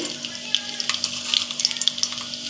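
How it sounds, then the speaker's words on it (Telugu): Cumin and mustard seeds sputter in hot oil with a sizzle and a quick run of sharp pops and crackles, close and bright, and no voices. "ఆవాలు కొంచెం చిట్పట్లు ఆడాలండి"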